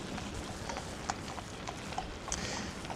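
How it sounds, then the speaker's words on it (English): Horses' hooves clip-clop along a seaside path near Sandbay, a steady, moderately close plodding rhythm over a continuous wind and outdoor background roar. "horses are cool"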